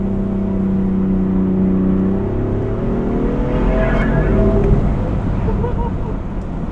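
A BMW M4 accelerating hard with wheels spinning, a loud continuous engine drone whose pitch sweeps upward as revs climb, close and steady throughout.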